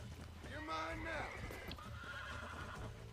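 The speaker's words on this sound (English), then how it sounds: "I'm riding a horse." A horse neighs loudly in the video game Red Dead Redemption, a clear rising-and-falling whinny over soft clip-clop hoofbeats and low background sound.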